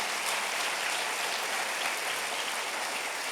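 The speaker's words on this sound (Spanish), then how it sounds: "Denle un aplauso al Señor." A church congregation at an anniversary service applauds: dense, sustained clapping from many hands blends into a steady, loud wash that stays even throughout, with no voices on top.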